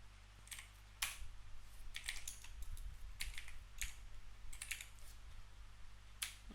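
Fairly quiet typing on a computer keyboard: irregular clusters of key clicks with brief pauses, close by and alone.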